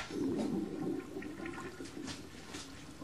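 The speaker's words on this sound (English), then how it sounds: "Walter, next time flush." A toilet flushing with a loud rush of water that swells at the start, then settles into a steady draining and refilling wash, heard alone with no voices.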